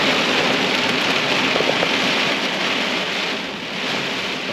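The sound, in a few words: rain at Ettrick Bay, Isle of Bute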